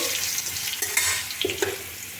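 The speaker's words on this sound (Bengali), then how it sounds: "আলুগুলো ধোয়া আছে আলুগুলো এক একে দিয়ে দিচ্ছি" Cut potatoes dropped into a pot of hot oil with cumin, giving a steady crackling fry with a few soft plops and stirring clinks as pieces go in, no talking.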